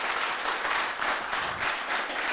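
An audience at a youth holiday event in the Plateau and Koumassi communes gives steady, even applause, heard at a moderate distance with no talking.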